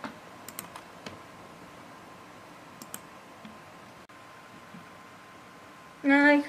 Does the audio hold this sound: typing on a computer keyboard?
yes